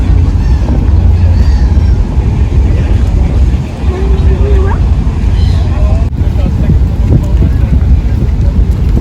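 Wind blows outdoors in Cologne, a steady, loud rumble buffeting the microphone for the whole stretch, with faint voices mixed underneath.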